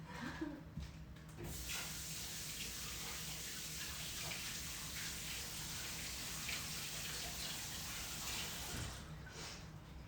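Tap water runs steadily into a sink for rinsing during Italian ricotta and sour cherry pie making, a continuous broadband splashing hiss lasting several seconds, close and fairly loud, with no talk.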